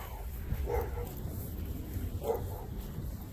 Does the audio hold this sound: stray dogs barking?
yes